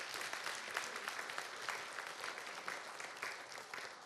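An audience at a Korean residents' self-governance convention applauds steadily, a dense, even clapping that fills the whole stretch at moderate distance.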